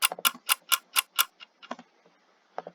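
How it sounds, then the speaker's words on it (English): A clock-style ticking sample, actually a timer, used in music production: six sharp, evenly spaced ticks, then a looser run of softer, uneven clicks that thin out toward the end. "We've got the clock sound."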